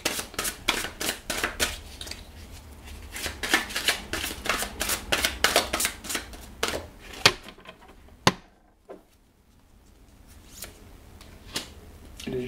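Tarot cards being shuffled, a rapid series of close crisp riffling flicks that stops partway, followed by a few sharp snaps as cards are drawn or laid down in near quiet.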